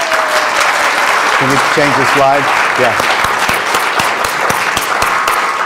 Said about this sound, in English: let's honor them with an applause